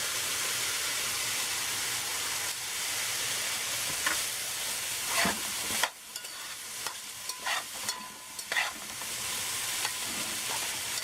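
Thyme and ginger fry in a pot for Trinidad callaloo, giving a steady close sizzle with occasional stirring scrapes and clinks over the hiss.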